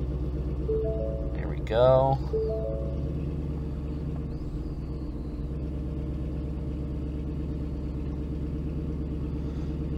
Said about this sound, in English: Now, I'm going to go ahead and start the vehicle